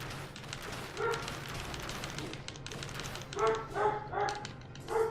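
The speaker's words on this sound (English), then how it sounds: "I apologize for the dog. I don't know what he's on about." A dog in the room gives a few short yips and barks, faint to moderate, scattered across the moment while a game plays quietly in the background.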